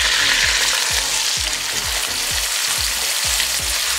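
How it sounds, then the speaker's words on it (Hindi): Boiled, overnight-soaked chickpeas frying with onions in a pan for chana pulao, a steady loud sizzle with repeated rhythmic scrapes of a spoon stirring throughout, no voices. "अब इसे बहुत अच्छे से हमने बॉईल कर लिया।"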